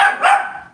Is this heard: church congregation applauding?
no